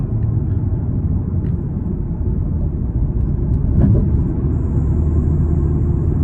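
Steady, loud low rumble of an Audi TT RS five-cylinder engine with Quattro all-wheel drive accelerating, heard from inside the car as a continuous drone with no break.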